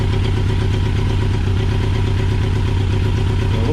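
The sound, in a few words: 1982 Yamaha XJ650 motorcycle engine idling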